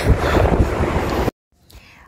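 Strong, cold wind buffets the microphone in a heavy roar, then cuts off abruptly into near silence with faint sounds.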